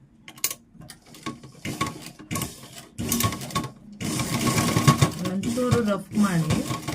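A sewing machine stitches piping onto blouse fabric in stop-start bursts of rapid mechanical whirring, growing louder and longer toward the end, with a faint voice underneath.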